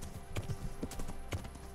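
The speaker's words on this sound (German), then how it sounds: "So, wir reiten aber direkt weiter." Horse hooves clip-clopping at a steady riding pace in the video game Kingdom Come: Deliverance; rhythmic, fairly quiet thuds over faint background ambience.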